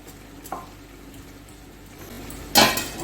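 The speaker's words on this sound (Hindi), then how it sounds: "अब इसको मिक्स करती हूँ, इसको दम करूंगी।" A spoon clatters and scrapes inside a pot of beef masala pulao, with a small clink early on and a louder burst of metallic scraping near the end over a quiet kitchen background.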